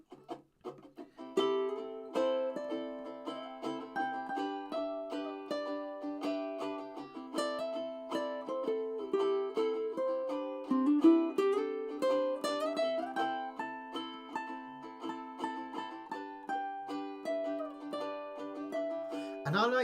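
Ukulele backing track of plucked, clearly separated notes and chords in a steady rhythm, played cleanly and fairly softly without accompaniment.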